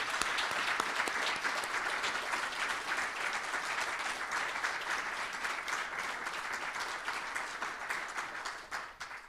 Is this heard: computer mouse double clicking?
no